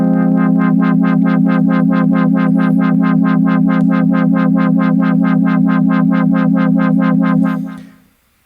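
An Ableton Drift synth holds a steady low tone under a fast LFO, which pulses it in rapid, even throbs. The level stays loud and constant for about seven seconds, then fades out.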